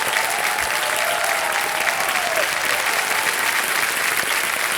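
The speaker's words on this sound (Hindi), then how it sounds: "और ताली बज जाए बहुत जोर से" Studio audience applause on a television quiz show, loud and continuous clapping from a crowd lasting throughout with no voices over it.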